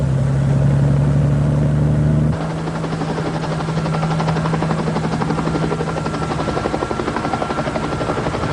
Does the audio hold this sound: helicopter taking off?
yes